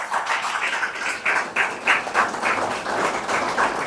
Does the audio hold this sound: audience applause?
yes